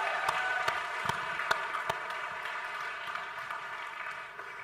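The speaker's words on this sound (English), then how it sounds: "I think we should give Bowman a huge round of applause." Moderate applause from an audience at the YouTube Brandcast event, with scattered sharper claps over a soft, even bed of clapping that thins slightly toward the end.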